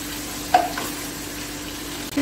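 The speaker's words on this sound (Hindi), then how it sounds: "अब इसमें डालूंगी हरी मिर्चें और इसको भी थोड़ा सा फ्राई करेंगे" Green chillies frying in a pan for a beef payaz gosht: a steady, moderate sizzle with one brief clink near the start and a louder burst at the very end.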